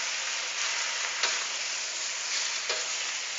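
Chinese broccoli stir-frying in a hot wok, a steady loud sizzle throughout with two brief scraping stirs of the spatula, no talking.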